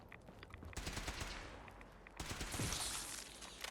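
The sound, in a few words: gunfire in Fallout 4 video game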